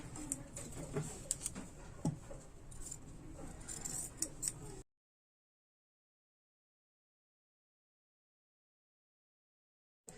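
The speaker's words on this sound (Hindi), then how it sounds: "तो अब इसके साइड में जो एक्स्ट्रा कपड़ा है उसको हम काट लेंगे सभी में के।" Scissors snip repeatedly at extra fabric along the side of a blouse with lining stuck to the main fabric, a run of close, crisp cuts for about five seconds followed by silence.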